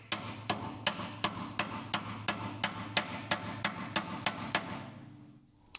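Sharp metallic strikes of a wrench being hammered onto a rear wheel nut on a Racing Turtle, about a dozen evenly spaced loud clanks in a steady rhythm, ringing briefly, then stopping.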